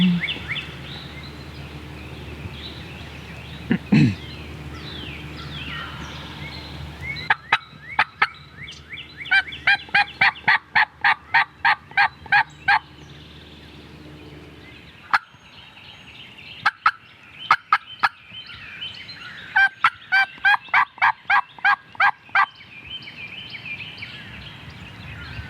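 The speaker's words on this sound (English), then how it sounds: "There's a flock of turkeys over there." Several wild turkeys gobble repeatedly in rapid rattling bursts across a creek in Alabama, moderately distant outdoors, with pauses between volleys.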